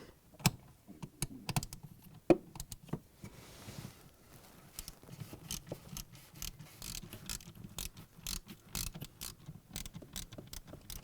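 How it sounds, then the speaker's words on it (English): Wrench working the 3/4-inch screws that hold the condenser fan motor on a Frigidaire/Electrolux refrigerator: close, fast metallic clicking and ticking in quick irregular bursts across the whole stretch, with no talking. "Now I'm gonna remove the 3/4-inch screws that holds the motor."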